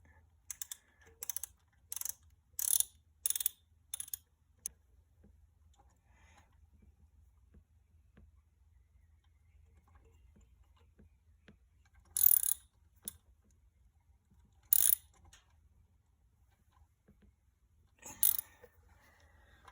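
Metal bolt being screwed into a stripped engine case hole on a moped, giving bursts of quick ratcheting clicks early on, then a few isolated sharp clicks later, close up over a low hum with no talking.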